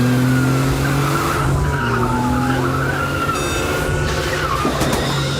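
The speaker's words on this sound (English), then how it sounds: "And this car chase in a European city is actually damn good." Tires squeal and skid during a car chase through a European city in a film, sustained screeching over engine roar and street noise, loud and close.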